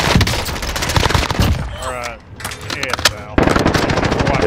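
Dense automatic gunfire from the video game Modern Warfare rattles in fast, loud bursts during a hardcore Search and Destroy match, easing briefly in the middle, where a voice speaks, before resuming hard.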